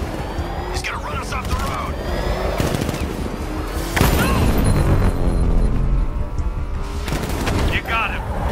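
Heavy automatic gunfire and booming shots in Batman: Arkham Knight, dense and loud throughout with engine roar underneath, while voices speak over the shooting.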